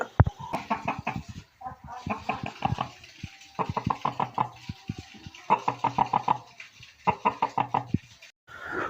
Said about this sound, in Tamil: முதல்ல இந்த சேவல் எழுப்புகிற ஒலியை இருக்கா கேளுங்க